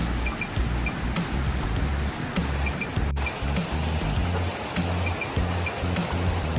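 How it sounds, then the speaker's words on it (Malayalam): Flowing water at Ezharakund waterfall in Kannur, a steady, full rushing roar close by that fills the whole clip without a pause or voice. "പല സ്ഥലങ്ങളിൽ നിന്നും വെള്ളം വരുന്നുണ്ട് കേട്ടോ"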